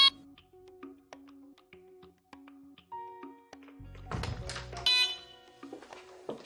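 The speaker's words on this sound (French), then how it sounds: "Les bips que vous entendez sont ceux de mise en garde sur une détection retardée." A Delta Dore Tyxal+ home alarm system gives a series of short electronic warning beeps for a delayed detection at a steady pace, with a few soft thuds and a brief louder clatter.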